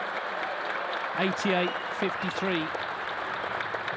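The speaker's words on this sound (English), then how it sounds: "Big cheer from this Tempodrome crowd" The Tempodrome crowd at the BetVictor German Masters snooker applauds steadily and cheers after a match win, a broad wash of clapping under a commentator's voice.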